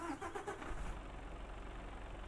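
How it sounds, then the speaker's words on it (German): Simulated 2012 Mercedes Antos truck engine in Euro Truck Simulator 2 starting up with a few rapid cranking pulses, then settling into a steady low diesel idle, faint and close. "Gut, alles klar, wir machen den Motor an."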